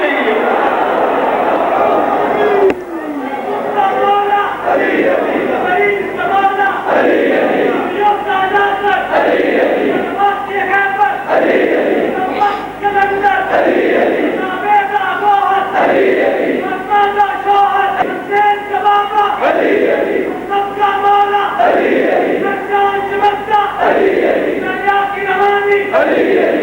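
A large crowd at a Shia majlis gathering in Sukheki Mandi chants a religious slogan in loud, rhythmic, repeated call-and-response bursts filling the whole stretch, with voices massed close together.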